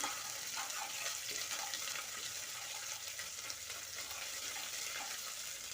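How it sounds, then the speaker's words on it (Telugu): Eggplant pieces frying in a pan, a soft steady sizzle with faint crackles and occasional stirring, constant throughout and quiet. "ఒక్క నిమిషం ఫ్రై చేయాలి."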